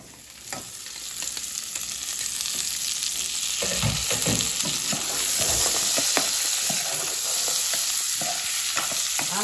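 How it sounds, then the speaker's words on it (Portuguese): Chopped tomato dropped into a hot frying pan while making baião de dois, a continuous sizzle with scattered stirring clatters and knocks, close and moderately loud, with no speech. "Jogo o tomate."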